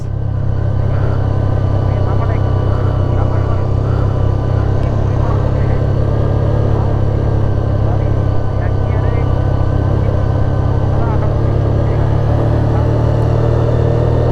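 A vehicle descends a steep road down from Boga Lake in Bandarban on engine braking, a steady low rumbling drone that holds throughout while people talk over it.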